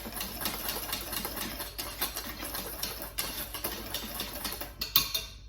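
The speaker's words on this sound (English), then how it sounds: "just going to whisk that round just to blend all the dried ingredients together" A whisk stirs dry gluten-free flour ingredients and xanthan gum in a bowl, producing quiet rapid ticking and scraping in an uneven rhythm up close, with no talking.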